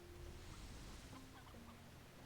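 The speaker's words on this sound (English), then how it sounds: "Grab some chickens as well." Chickens cluck in the Slime Rancher video game, soft scattered clucks and short calls layered over a low ambient hum, faint and fairly distant, with no talking.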